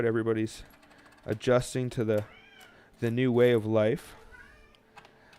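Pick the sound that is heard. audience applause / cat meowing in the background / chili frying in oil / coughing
cat meowing in the background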